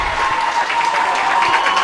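A youth football crowd at an under-17 grand final roars and applauds in a steady, dense wash after a goal, close and loud throughout with no let-up.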